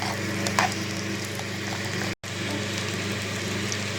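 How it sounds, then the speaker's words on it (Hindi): Eggs and potatoes frying in a pan, giving a steady, soft sizzle with faint crackles and a brief stir, heard close and alone. "इनको अच्छी तरीके से भूनना है।"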